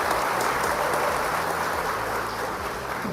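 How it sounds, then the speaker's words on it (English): Audience at a Chamber of Commerce meeting applauding: dense, continuous clapping from a crowd, steady and moderately loud throughout. "big round of applause for Anna because this is a Chamber of Commerce meeting"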